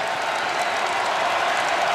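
Arena crowd at a Creighton Bluejays at Marquette Golden Eagles college basketball game applauding and cheering, a dense steady roar of clapping and voices filling the whole stretch.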